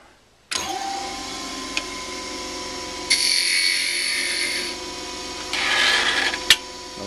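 A small wood lathe hums steadily while a rounded-end 1/4 inch insert tool turns a miniature bowl, with two louder, hissing cutting passes against the workpiece partway through and a sharp tick near the end.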